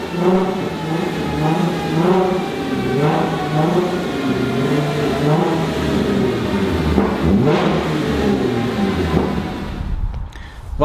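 An R32 car's engine revs hard and steadily under load on dyno rollers, a loud sustained mechanical roar with whirring that rises and falls slightly before easing off at the end.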